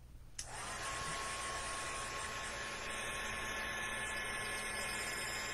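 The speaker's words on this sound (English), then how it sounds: "I'm just gonna get my heat emboss tool just to dry it off a bit" Heat emboss tool drying ink on a card: switched on after a brief pause, then a loud, steady, close blowing roar that runs without a break to the end.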